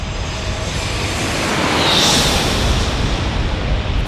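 An American Airlines Airbus A321 comes in to land at San Diego airport, a steady broad jet roar that swells slightly toward the middle and holds loud throughout, with no voices.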